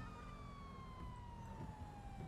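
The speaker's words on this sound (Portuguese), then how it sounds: "eu tô com a sirene ligada aqui" A steady electronic police siren in the video game GTA 5 wails continuously, with a slowly falling tone over low rumbling engine noise, at a moderate distance.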